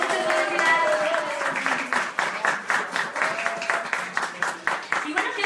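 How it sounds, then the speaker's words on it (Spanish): An audience applauds at a live Spanish-language show, with clapping that builds into a dense patter beneath someone speaking over it. "Un fuerte aplauso para"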